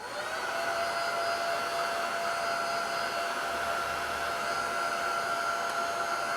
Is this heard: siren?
no